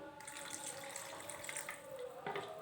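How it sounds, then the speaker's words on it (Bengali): A little water is poured into tomato chutney cooking in a pan, giving a soft, faint, continuous trickling splash for a few seconds, close by and quiet. "দেবো অল্প পরিমাণ জল"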